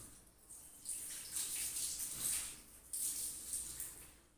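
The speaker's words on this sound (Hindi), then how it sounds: "पानी डालते हैं इस तरह" Water poured onto a floor while washing a room before Eid, a soft splashing rush that swells in two longer waves, fairly faint and close with no talk.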